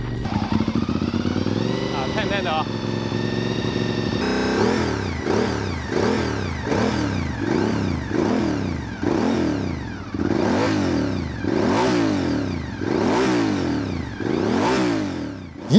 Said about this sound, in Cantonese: 不過咧就勝在引擎咧會發出一啲 VV 聲